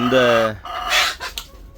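Native country chickens and a rooster in a backyard cage in Chennai: the tail of a loud, close crow fades into a murmur of clucking and scratchy farmyard noise.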